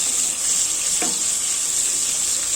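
Chicken frying slowly in oil over a low flame, a steady, even sizzle with one brief stir or clink partway through and no talking.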